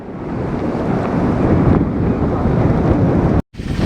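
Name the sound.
strong wind and rain outdoors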